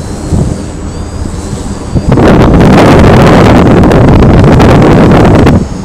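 The electric motor of a flying EPP foam Yak 3D RC plane whines loudly overhead in a strong burst lasting a few seconds, with wind buffeting the microphone before and during it.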